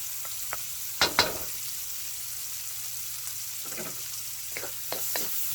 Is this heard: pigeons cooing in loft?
no